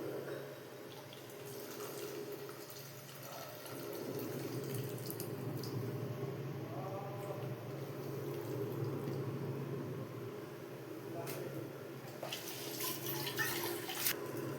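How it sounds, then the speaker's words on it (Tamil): Tamarind water poured into a pan for a dried-turkey-berry tamarind curry, a steady soft liquid wash with faint trickling and light clinks, moderately close and continuous with no talk. "இந்த புளி கரைசல் வந்து கொஞ்சம் சேர்த்திக்கலாம்"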